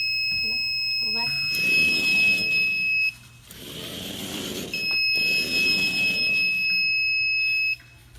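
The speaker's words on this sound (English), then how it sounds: "When the sensor, which is this, senses something in front of it, it starts the buzzer while it's going backwards." Buzzer on a small Arduino robot with an infrared sensor, sounding as two steady high electronic tones of about 1.5 and 3 seconds with a gap between, over faint room noise and low talk.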